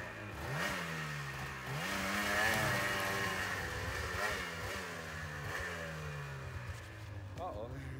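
A race snowmobile engine stuck in snow revs repeatedly, its pitch climbing and falling in several surges as it strains to break free, with people talking over the steady engine noise.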